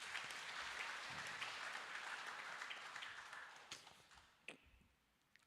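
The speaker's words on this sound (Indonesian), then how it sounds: "Ya, tepuk tangan untuk kita semua." Church congregation applauding at a Batak-language HKBP New Year service in Yogyakarta, a dense, fairly faint patter of many hands that thins out and fades into a few scattered claps.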